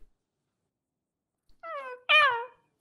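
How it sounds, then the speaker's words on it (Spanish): A pet cat gives two clear meows in close succession after a moment of near silence, the second louder and higher. "era mi gato, era mi gato"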